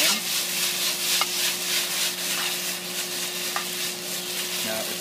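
Parboiled glass noodles being tossed into a sizzling stir-fry, a continuous close hiss of frying with rhythmic scraping and stirring strokes and a couple of light clicks.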